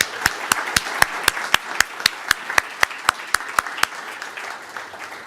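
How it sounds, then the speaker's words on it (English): Applause for the winners at an awards ceremony: a soft bed of crowd clapping with a series of sharp, evenly spaced close claps standing out in a steady rhythm, stopping just before the end. "how about one more round of applause for our winners?"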